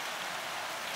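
Steady rain pours down as someone arrives at a door, a dense, even hiss of drops filling the whole second with no talk over it.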